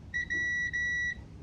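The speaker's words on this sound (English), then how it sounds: "And then what I wanna hear is a beep." Multimeter continuity test beeping while checking wiring in a Ram Promaster van conversion: two steady electronic tones, a short one then a longer one, over a low hum.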